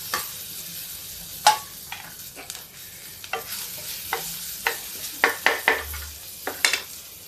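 Green chilli goes into a hot tempering for dal tadka, giving a soft continuous sizzle under repeated sharp clinks and scrapes of a spoon stirring against a metal pan, close by with no talk.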